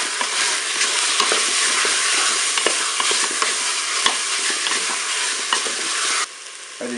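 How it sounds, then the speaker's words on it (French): Onion pieces sizzling loudly in a Cookeo pot on the browning setting, a dense, continuous close-up frying hiss with scattered stirring clicks, easing off slightly near the end. "Je vais ajouter mes morceaux d'oignon."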